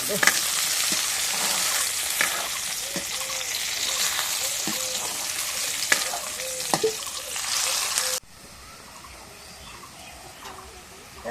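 Bay leaf dropped into hot oil for a chicken curry, giving a loud, steady sizzle with sharp crackles and occasional scraping, then dropping abruptly to a quieter hiss near the end.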